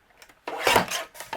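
Cardstock cut with a paper trimmer: a few faint ticks, then one close, loud rasping slide of the blade lasting about half a second, followed by a short softer scrape.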